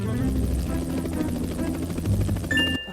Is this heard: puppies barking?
no